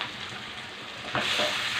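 Chicken curry with curry leaves, coriander and coconut sizzles in a pan as a spoon stirs it, a close frying hiss that flares louder in the second half; no voices.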